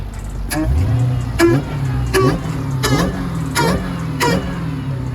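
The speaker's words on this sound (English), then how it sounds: "Let's get the intake sound." A Dodge Hellcat's Hemi engine barks through its intake with the hood open, a series of about five sharp revs rising and falling over a deep idle rumble, close and loud.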